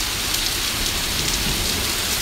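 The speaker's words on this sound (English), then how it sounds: "here I am with this crazy rain and stuff in the background." Heavy rain pours down outdoors in a yard flooded like a river, a loud, constant roaring hiss close to the microphone that never lets up.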